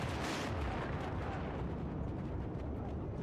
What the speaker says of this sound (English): Seriously, rocket launchers?